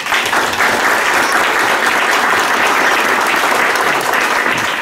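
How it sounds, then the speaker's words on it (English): Audience applause fills a room at a women's basketball champions awards ceremony, steady and dense, with no break for its full length. "So let's have a round of applause for her."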